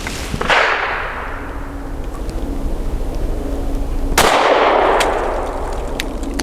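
Two sharp, loud shots from a Mossberg MC2sc pistol loaded with Hornady Critical Defense Light rounds, the first early and the second about four seconds later, each cracking outdoors with a long echoing decay.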